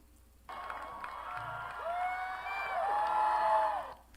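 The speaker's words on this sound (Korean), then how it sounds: "사람들이 박수를 치며 환호하며" A crowd at a public prayer gathering tied to a court case claps and cheers, the noise rising after a quiet start and swelling with whoops and shouts over about four seconds.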